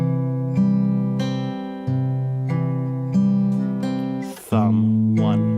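An acoustic guitar is fingerpicked in a repeating pattern on the inside strings, with evenly spaced plucked notes over ringing chords, close and clear, changing chord near the end.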